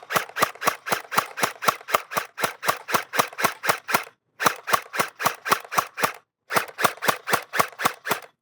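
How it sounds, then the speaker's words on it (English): An XShot Trace Fire gel blaster fires in full auto, giving rapid sharp snapping shots in three bursts of roughly ten to fifteen rounds each. Short pauses separate the bursts, and the shots are loud, close and clear, with no talking. "Again, with full auto, you get accuracy through volume."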